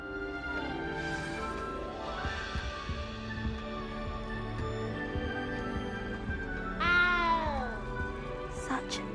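Cat in the video game Hogwarts Legacy gives a few drawn-out meows, one louder cry late on, over quiet game ambience and low background hum.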